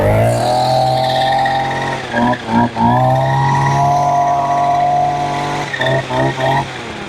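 A small pull-start engine, switched from choke to start, runs loudly and close by with a steady droning hum, stuttering briefly a few times before settling back into its even running note.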